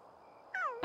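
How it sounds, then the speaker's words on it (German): A cat in The Sims 3 life-simulation game lets out a short rising-then-falling meow near the end, after a quiet hum of game ambience, followed by a brief louder burst. "Und die Katze ist auch noch da."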